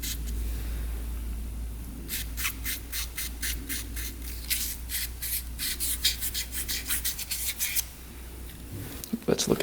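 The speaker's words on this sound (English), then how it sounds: "It's like 800 grit sandpaper" Sandpaper of 800 grit rubbing over a seat inside an old ATV part that sat unused for twenty years, a run of quick, regular back-and-forth strokes, close and fairly loud over a low steady hum.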